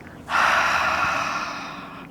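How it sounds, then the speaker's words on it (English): A single long breath drawn in through the nose then let out through the mouth during a yoga flow, a sharp onset followed by a steady, fairly loud airy rush lasting about two seconds, with no talking. "inhale through the nose, exhale through the mouth"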